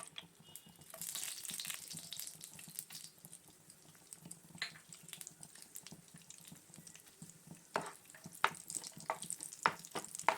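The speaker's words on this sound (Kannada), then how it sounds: "ಎರಡರಿಂದ ಮೂರು ಚಮಚದಷ್ಟು ತುಪ್ಪ ಹಾಕೊಂಡ್ಮೇಲೆ ನಾನೀಗ ಫಸ್ಟ್ ಗೋಡಂಬಿ ಫ್ರೈ ಇದ್ದೀನಿ" Cashews fry in a few spoons of ghee in a pan for carrot halwa, giving a soft, continuous sizzle with scattered stirring clicks and scrapes close by.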